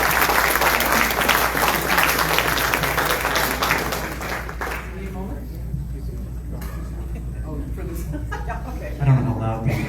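Audience applause at a talk about the Subantarctic Islands of New Zealand and Australia, loud and thick for about four seconds, then thinning to scattered claps as someone speaks over the dying clapping.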